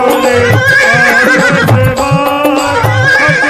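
A horse neighs and whinnies over loud, continuous devotional music, the call rising out of the dense accompaniment for several seconds.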